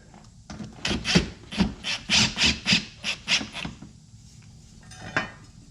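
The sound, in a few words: tightening screws on Subaru Crosstrek mudflap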